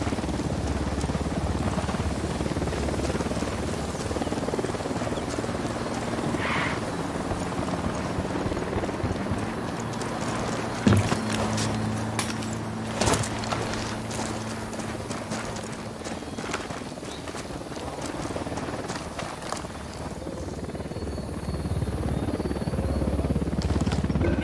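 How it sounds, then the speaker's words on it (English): A helicopter's rotor thrum drones steadily beneath dense, noisy game-battle ambience, with a couple of sharp impacts partway through. "Hit the dirt, helicopter."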